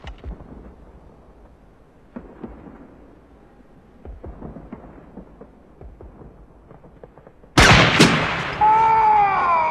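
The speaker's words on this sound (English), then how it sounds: "all you can hear is like the sounds of gunfire and explosions just faintly in the distance" Faint, distant gunfire and explosions from a Full Metal Jacket war scene: scattered muffled thumps and pops over near silence, then a sudden loud burst that rings on.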